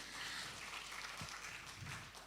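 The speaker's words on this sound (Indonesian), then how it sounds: "Tepuk tangan bagi Allah kita." A church congregation at a women's fellowship service claps for God, a fairly quiet, steady patter of hands lasting a couple of seconds with some low background rumble.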